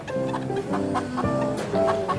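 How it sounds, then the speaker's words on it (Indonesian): A batik chicken clucking close by in a string of throaty, tonal calls that rise and fall in quick succession, loud and clear with no talking. "Nah, ini ayam batik."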